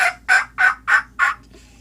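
Five quick, choppy turkey yelps blown on a mouth call come in an even rhythm, close and fairly loud, followed by a short silence. A human is imitating a turkey.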